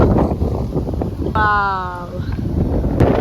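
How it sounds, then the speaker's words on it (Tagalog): Strong wind on a mountain summit buffets the microphone in a loud, constant roar, with a person talking briefly over it. "Oh, look how windy."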